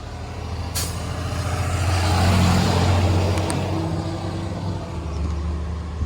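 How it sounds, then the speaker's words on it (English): Steady low engine rumble of a heavy vehicle swelling as it approaches and passes close by at an accident scene, with a brief hiss of air brakes near the start. "here go the car coming"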